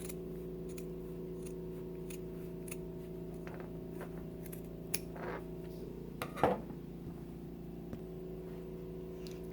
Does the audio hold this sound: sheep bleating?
no